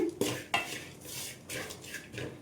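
A metal spoon clinks and scrapes against a pan while spices and potatoes are stirred, with a few sharp knocks followed by softer sizzling scrapes.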